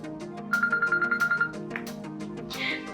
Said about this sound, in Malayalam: എന്റെ ഫോൺ അടിക്കുന്നു